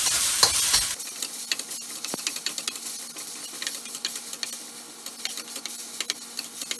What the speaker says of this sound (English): Just going to stir it for a couple of minutes until the color changes to white.